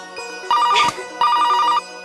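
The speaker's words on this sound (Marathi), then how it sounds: "आता फोन कुणाचा आला?" A telephone ringtone sounds in two loud, clear bursts of repeated electronic trills separated by a short pause, close by, in a comedy serial scene.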